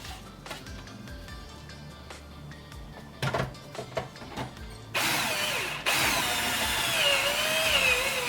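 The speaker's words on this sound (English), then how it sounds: "I got a Frankenstein drill" An improvised, cobbled-together drill bores a hole in the dashboard of a 1999–2004 Ford Mustang, starting with scattered clicks and knocks, then a steady whining drill run that rises partway through and continues to the end, with no talk.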